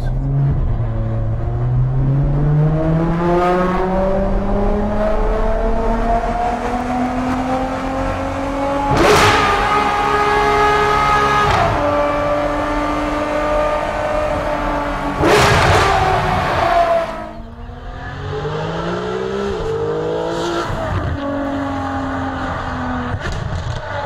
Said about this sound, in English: I found a brand new musical instrument. It's called a Ferrari 599 GTO.